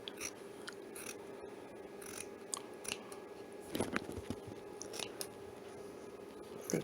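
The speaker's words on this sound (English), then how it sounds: "you're going to take your scissors and cut them" Scissors snip repeatedly at close range, a series of sharp crisp cuts through fabric with short pauses between strokes, no voices.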